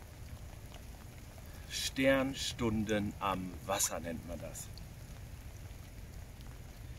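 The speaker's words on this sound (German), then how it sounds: "Es regnet immer noch." Steady soft patter of rain fills the background while someone speaks briefly in German in the middle, during pike fishing.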